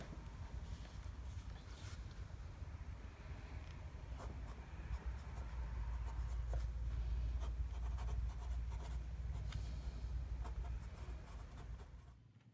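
A fine pen writing on paper while copying text from Bram Stoker's Dracula: continuous soft scratching strokes, close and quiet, running for many seconds with no speech.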